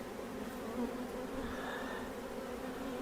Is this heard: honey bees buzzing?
yes